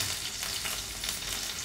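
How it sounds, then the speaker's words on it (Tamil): Small onions and green chilies sauté in hot oil for a Chettinad-style crab masala, giving a brief, steady, close-up sizzle with light crackling and no voices. "போட்டு இதை நல்லா வதக்கிடணும்."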